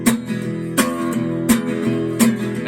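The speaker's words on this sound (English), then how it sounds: "And then you can add your the palm of your hand, like on the back side of your thumb" Guitar strummed with palm muting in boom-chicka style, with four regular percussive strums between dampened bass notes, close and without voices.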